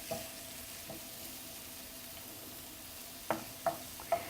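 Onions and green chilies fry gently in a pan for egg bhurji, a soft, low sizzle running steadily, with a few quick utensil taps near the end and one faint tone at the start.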